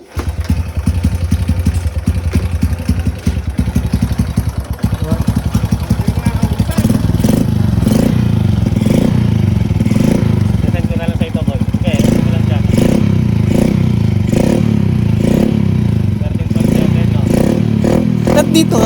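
A motorcycle engine idles with a rattling clatter, then revs up into a loud, sustained roar with repeated throttle pulses up close.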